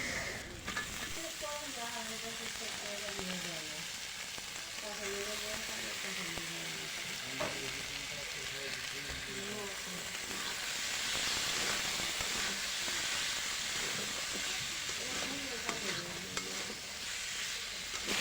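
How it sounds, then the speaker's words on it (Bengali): Spice paste with onion and garlic frying and being stirred in a pan, a steady close sizzle and hiss with scraping spoon strokes throughout, while a voice talks faintly in the background. "তো মশলাটা কষিয়ে তারপর আলু দিয়ে দিলাম"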